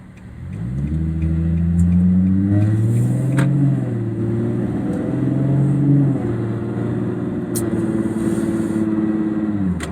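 A Nissan 350Z fitted with a Z1 Motorsports M-Spec Y-pipe-back dual exhaust revs up and holds a deep, loud tone. The pitch rises and falls a couple of times before settling into a sustained rumble.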